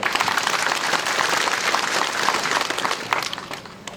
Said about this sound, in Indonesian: Beri aplaus untuk Bupati Yaukimo.